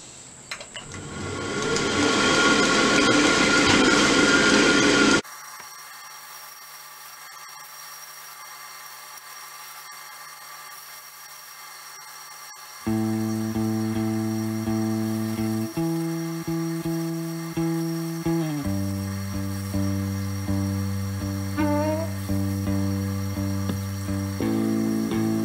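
A belt grinder fitted with an 80-grit-equivalent Trizact belt grinds the bevels of a Javelin Motto tanto-tip knife, giving a loud, harsh roar for about five seconds before a quiet hum and then music take over.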